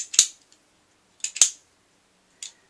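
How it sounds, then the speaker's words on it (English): Cutters snipping through polyethylene tubing for an open hoop knitting project, three sharp, close snips spaced about a second apart, with near silence in between. "Cut your polyethylene tubing with your cutters."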